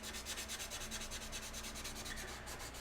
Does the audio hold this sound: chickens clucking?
no